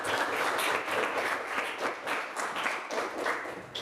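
Classroom applause for a student, a burst of many hands clapping together in a dense, continuous patter that holds steady for several seconds, fairly close and loud, with no speech over it.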